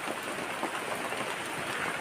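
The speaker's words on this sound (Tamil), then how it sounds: "பயங்கர மழை" Heavy rain falling in a hill village near Kodaikanal, a dense, steady hiss of drops that stays loud and even from start to finish, with no talking.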